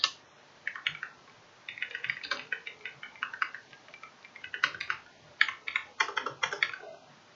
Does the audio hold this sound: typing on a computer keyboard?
yes